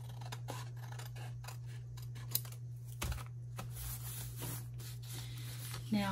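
Scissors trim paper for an autumn-themed junk journal pocket, giving a series of close, quiet snips and rustles over a steady low hum.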